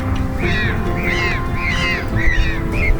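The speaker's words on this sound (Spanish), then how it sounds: "El sonido particular emitido por los pingüinos de Magallanes se conoce como gorjeo" Magellanic penguins calling at a coastal colony near Puerto Madryn and Punta Tombo, a series of harsh, honking brays repeating every half second or so over steady wind and background noise.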